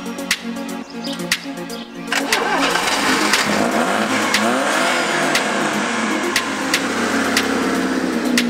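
A Fiat Fiorino pick-up converted for off-road use starts up and settles into a steady, loud engine note, rumbling continuously up close after a brief lower idle at the start.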